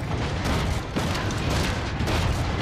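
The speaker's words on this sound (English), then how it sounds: "Just a lot of explosions." Mortar shells exploding one after another in the video game Far Cry 6, a dense, loud, continuous barrage of booms and blasts with no clear gaps between them.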